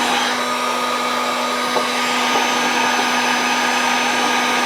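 A hot air tool running on its low setting warms plastic on a turning jig, giving a steady, close, loud blowing whoosh with a constant motor hum throughout.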